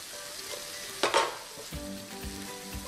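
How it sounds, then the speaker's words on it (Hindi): Masala spices fry in a pan for eggplant masala, with a sudden loud burst of sizzling about a second in, followed by softer stirring scrapes and a low crackle, with no voices. "इसे हम अच्छी तरह से भून लेंगे मसाले को"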